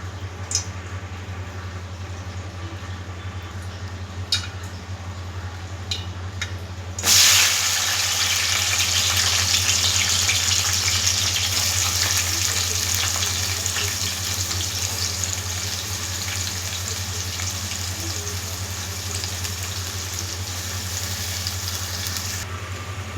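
White eggplant, drumsticks, tomatoes, onion and green chillies hit hot oil, and a sudden loud sizzle begins partway through, then holds steady over a low background hum.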